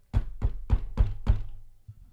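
Knuckles knocking on wood, five evenly spaced, solid hollow knocks close by, followed by a faint thump, with no talk over them.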